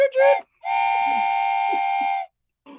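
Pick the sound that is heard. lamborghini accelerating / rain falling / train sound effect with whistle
train sound effect with whistle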